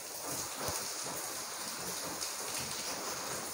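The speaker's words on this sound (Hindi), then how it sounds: "ये देखें जी, बारिश बहुत तेज़ हो रही है।" Heavy rain pours steadily, a dense, continuous hiss of falling water with no voices and no breaks, fairly loud and close throughout.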